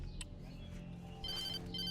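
Telephone ringing in the video game Alan Wake, a faint electronic ring that starts partway in, with repeated bright trills over a quiet background.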